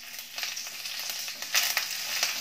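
Asafoetida, two red chillies and curry leaves sizzle in hot oil in a pan over low heat while being stirred for South Indian rasam, a steady close crackling hiss with a few louder bursts and no talk.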